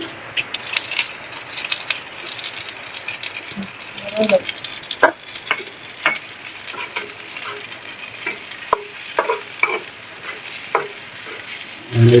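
Taki fish frying in a pan with onion, chili and garlic, a steady close sizzle broken by scraping stirs and clinks of the spatula, with no one talking over it.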